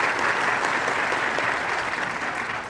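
Steady applause fills a hall at a South African presidential speech, dense clapping from a large crowd that stays even throughout and fades slightly at the end.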